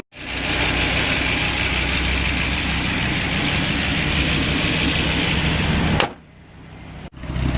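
A 2003 Dodge Viper SRT-10 fires up and idles with a loud, dense, steady exhaust rumble, then cuts off sharply near the end, leaving near silence.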